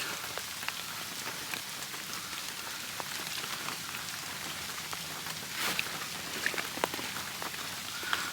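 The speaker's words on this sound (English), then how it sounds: "It's raining, so we're just gonna have a quick look" Steady rain pattering on a surface, with scattered louder drops tapping close by throughout.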